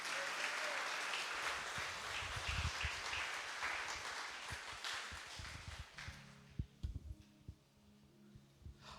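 Applause during a church worship service fills the hall as steady, dense clapping from a congregation, moderately loud, then thins out into a few scattered claps near the end.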